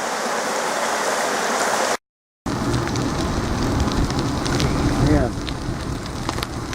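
The Taki waterfall in Ujitawara gives a dense, steady rush of falling water. A short silent gap breaks it, then the roar resumes and continues unbroken at close range.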